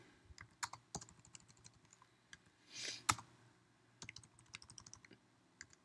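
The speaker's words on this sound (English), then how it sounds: "Let's just type in some random stuff." Fingers type on a Mac computer keyboard, close and fairly quiet, with irregular bursts of light key clicks, a short pause, then another run of rapid tapping.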